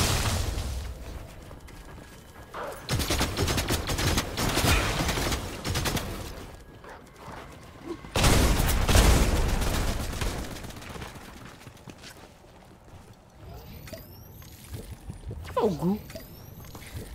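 Gunfire in the Fortnite video game comes as several loud broadband bursts and volleys, heaviest early and around the middle, mixed with game sounds and someone talking over it.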